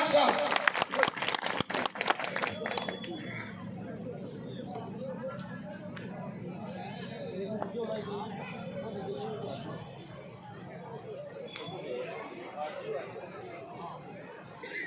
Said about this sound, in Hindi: जोरदार तालियों के साथ डॉक्टर साहब